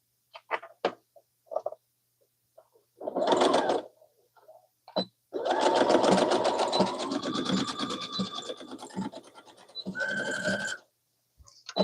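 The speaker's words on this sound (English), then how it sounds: "So I'm going to go ahead and sew this." A sewing machine stitches a zippered scrunchie in short starts, then one long run of several seconds and another burst. It sounds close and steady, with quiet handling clicks between runs.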